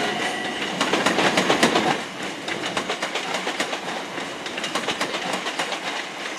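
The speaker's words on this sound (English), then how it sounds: "departing now is a Southern service to London Victoria." A Southern Class 377 electric train on the Brighton Main Line moves off through Brighton station, its wheels giving a steady, rhythmic clickety-clack over rail joints. The sound is fairly close and continuous, with no voices.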